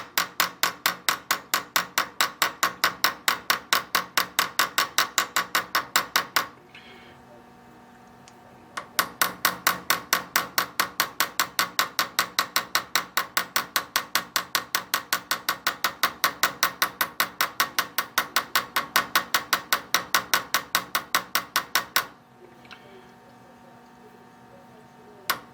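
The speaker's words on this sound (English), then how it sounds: "I'm just peening over the edges or the tops of them now" Rapid, evenly spaced hammer blows peen over pin ends on a small lathe's lead screw handle, a close, sharp metallic tapping in two long bursts separated by a short quiet pause, with no talking.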